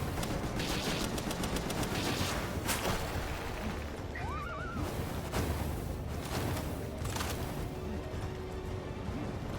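Rapid gunfire from a boss fight in the creature-collecting game Palworld, a dense steady barrage of shots layered over continuous game sound with a horse-like whinny briefly rising in the middle.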